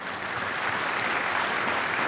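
Steady audience applause at an NHRA drag racing awards ceremony, a dense wash of many hands clapping at even loudness throughout, with no voices standing out.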